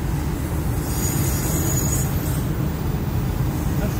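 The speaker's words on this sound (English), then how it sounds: "We got a train here." A freight train, an old Santa Fe train on the line at Sugar Creek, Missouri, rolls steadily past nearby, with a continuous loud rumble and rattle of the cars and faint squealing of wheels throughout.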